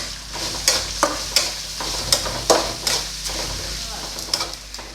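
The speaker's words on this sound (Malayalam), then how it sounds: "ഇനി ഇതിലേക്ക് ഒരു സവാള പൊടിയായിട്ട് അരിഞ്ഞത് ഇട്ട് കൊടുക്കാം" Chopped onion fried with urad dal and dried red chilies for a Kerala sadya-style cabbage thoran, sizzling steadily in a pan while a spoon stirs and scrapes in repeated sharp strokes.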